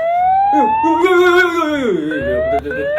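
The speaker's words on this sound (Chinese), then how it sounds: "警灯的声音是什么情况呢" A police siren wails loudly and close, its pitch rising and falling in a steady repeating sweep.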